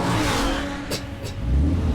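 A car engine revs in Batman: The Telltale Series, a steady mid-pitched roar that swells toward the end, joined by two brief whooshing bursts, with no talk.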